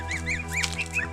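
Geese honk several times in quick succession, close and loud, with overlapping nasal calls in a farmyard setting.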